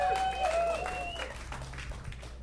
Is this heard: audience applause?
yes